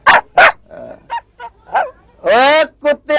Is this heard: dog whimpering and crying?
yes